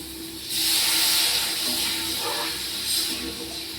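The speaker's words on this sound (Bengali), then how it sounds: "এবার আমি জল দিয়ে দেবো।" Water poured into hot spice paste in a pan bursts into a loud, steady sizzling hiss that holds for several seconds, close up, with faint bubbling underneath.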